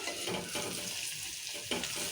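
Turmeric goes into hot tempering oil for a sesame raw tamarind stew, giving a steady close sizzle and frying hiss with a few stirring scrapes through it.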